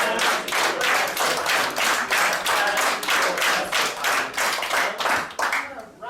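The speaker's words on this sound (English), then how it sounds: "So it's constant clapping, and then it's clap hands if you're an Asda fan." An audience claps in a steady, rhythmic beat during a live comedy performance, each clap sharp and evenly spaced, with the pattern loosening slightly toward the end.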